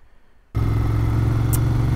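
After a brief quiet moment, a 1994 Ducati 900 Supersport engine roars in abruptly and holds a loud, steady rumble as the bike rides along.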